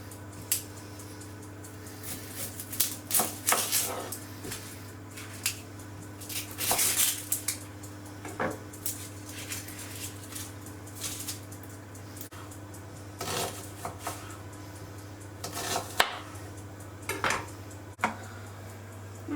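A knife chopping an onion on a board, with irregular crisp cuts and clattering strokes at varying pace over a steady low hum.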